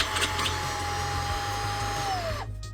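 A Baseus A3 Lite handheld car vacuum cleaner runs with a steady, close motor whine that winds down and cuts off near the end.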